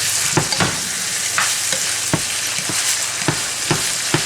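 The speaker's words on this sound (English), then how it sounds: "Here's the ground beef, mixed vegetables, sauteing together." Ground beef and mixed vegetables saute together in a pan for Guyanese beef patty filling, giving a loud continuous frying hiss with regular sharp spoon scrapes and taps every half second or so, close up and without talk.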